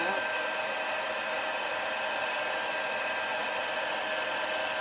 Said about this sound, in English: And you'll find as the heat gun warms up